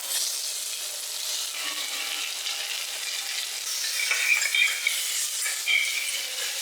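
Onions frying in coconut oil for kappa biriyani give a steady, fairly loud broadband sizzle, with a few brief clinks and stirring scrapes toward the end and no talking.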